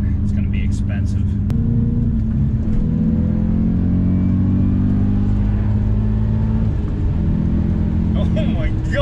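A 2009 Audi S5 accelerating hard, its engine a loud, close, sustained rumble with rising tone through the gears, while excited voices talk over it at the start and end.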